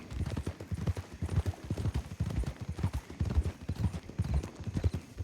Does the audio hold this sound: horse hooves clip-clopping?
yes